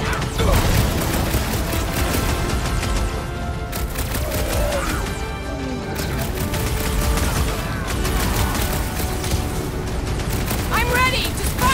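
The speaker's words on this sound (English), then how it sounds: "Wanna see some fireworks?" Fireworks burst in Marvel's Guardians of the Galaxy on PS5, a dense run of loud booms and crackling blasts lasting throughout, mixed with game music and voices talking over it.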